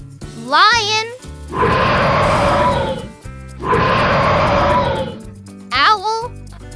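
A lion gives two long, loud, rough roars, each lasting over a second, set between bright music and short sung or spoken phrases.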